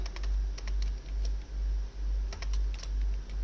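Keystrokes clatter steadily on a computer keyboard as C code is typed for a loop exercise, with a quick, even rhythm of close, crisp clicks and a low hum underneath.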